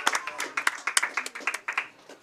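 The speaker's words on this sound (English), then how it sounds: "that's the applause for the B event" Applause as event winners and finalists enter the room at a junior competition finals: a small crowd clapping in quick irregular bursts, moderately loud and close, tapering off slightly.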